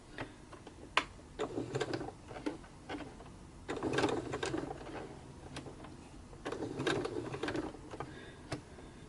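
A sewing machine stitches fabric flowers in short, halting bursts of a stitch or two, with pauses and ticking clicks between them; no voices.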